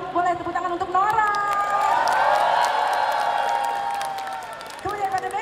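Concert crowd at a mall stage show cheering and applauding, a sustained roar of claps and shouts building and fading, with talk at the start and end.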